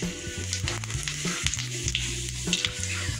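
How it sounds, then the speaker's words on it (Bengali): Half a bay leaf and a little white cumin go into oil left from frying fish, giving a steady close sizzle with spatula stirring throughout and no talk. "মাছ ভাজা তেলের মধ্যেই দিচ্ছি হাফ তেজপাতা, অল্প সাদা জিরে"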